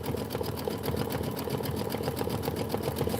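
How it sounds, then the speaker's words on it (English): An embroidery sewing machine stitches a satin outline for a chimney on a home-decor tile design, a steady fast rhythmic needle whir with a constant motor hum, close and unbroken throughout. "we're stitching the chimney satin outline"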